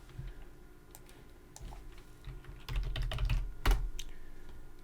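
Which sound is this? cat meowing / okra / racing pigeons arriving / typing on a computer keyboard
typing on a computer keyboard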